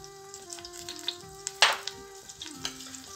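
Olive oil mixed with a little ordinary oil heats in a pot for a tajine, giving a soft steady sizzle with scattered crackles and one sharper burst midway, over a faint steady hum.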